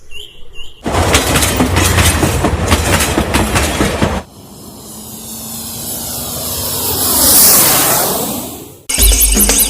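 A cartoon train rumbles along the tracks with a loud, rhythmic clatter for several seconds. A long whooshing swell of motion noise then rises and cuts off, and the clatter returns.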